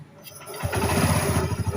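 A motorcycle fitted with a self-start switch cranks and fires up close by, a brief starter whir followed by the engine catching into a loud, pulsing idle.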